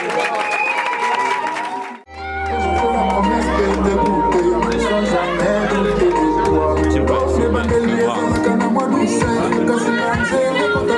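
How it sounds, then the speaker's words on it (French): Guests at a customary wedding cheer and clap loudly, a thick crowd roar mixed with music and chatter that swells after a brief pause and stays full to the end. "Sous vos acclamations, s'il vous plaît."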